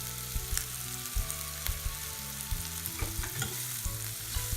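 Egg masala frying in a pan with chili powder just added, steady close sizzle under repeated scraping stirs of a spoon against the pan, no voices.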